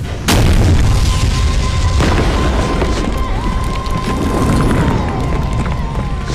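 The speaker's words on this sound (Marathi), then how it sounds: "एक तोफगोळा तटाच्या अलीकडेच येऊन आदळला" A cannonball slams into the ground just short of a fort's rampart during a Maratha-era siege: one deep, loud boom near the start, followed by a sustained rumbling roar and a faint second thud.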